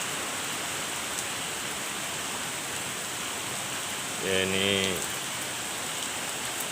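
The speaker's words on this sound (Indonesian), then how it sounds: "hujannya nggak berhenti-henti nih" Heavy rain pours steadily through the night, a dense unbroken hiss. A brief burst of voice or something tonal cuts in near the middle, and a few words are spoken.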